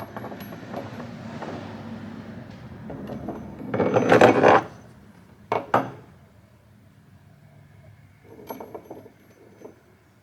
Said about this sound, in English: I'm gonna roll it on this table so you can kind of listen to it and see what it sounds like.